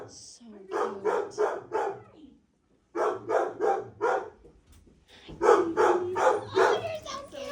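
Dogs bark at a shelter's kennels in three bursts of rapid, evenly spaced barks separated by brief pauses, close and moderately loud, with faint yips between.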